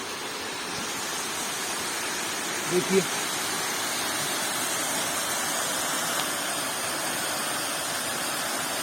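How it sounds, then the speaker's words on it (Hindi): Water rushes through an irrigation channel as a constant broad hiss, loud and close, with someone speaking briefly over it. "अगर आपको आवाज सुनाई दे तो यहाँ से पानी जा रहा है।"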